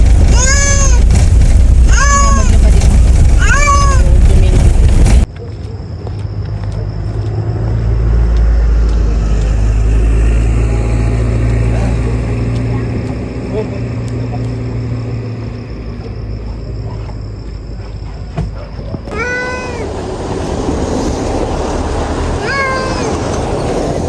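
A cat inside a pet carrier meows repeatedly, several clear, close cries at the start and again near the end, separated by a long stretch of vehicle rumble and road noise.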